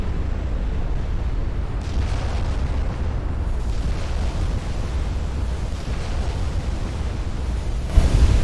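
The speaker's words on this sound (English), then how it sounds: "Oh, another flash fire." A warship's flash fire explosion in Ultimate Admiral Dreadnoughts, a 1910 German naval campaign battle, heard as a heavy, sustained rumbling roar over constant sea and wind noise, with a sharper burst near the end.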